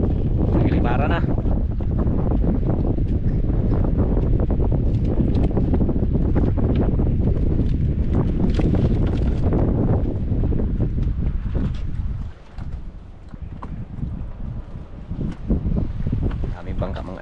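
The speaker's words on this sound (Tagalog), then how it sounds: "Ah, sunod-sunod ang hangin." Strong, continuous wind at sea among many small boats roars into the microphone for most of the stretch, easing and gusting unevenly near the end, with voices talking faintly underneath.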